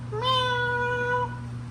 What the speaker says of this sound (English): My cat keeps following me, meowing.